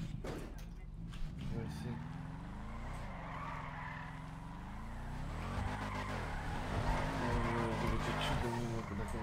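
A Nissan in GTA 5 drives hard with tyres squealing and skidding over a steady engine drone that swells toward the end, with people talking over it.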